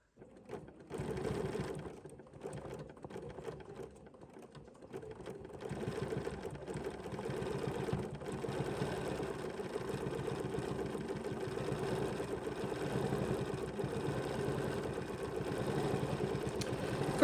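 A computerized embroidery sewing machine run with its stitch regulator stitches steadily, the needle hammering in a fast even rhythm up close and loud, with no talking.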